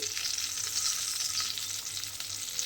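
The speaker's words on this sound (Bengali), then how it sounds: "দেখুন আস্তে আস্তে পটলগুলো আমি উল্টিয়ে পাল্টিয়ে একটু লাল করে ভেজে নিচ্ছি" Pointed gourd pieces fry in hot oil, a close, steady crackling sizzle that swells slightly as the pieces are turned.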